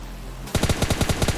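A rapid burst of automatic gunfire from PUBG Mobile Lite: after a short quiet lead-in, about ten loud, evenly spaced shots in quick succession.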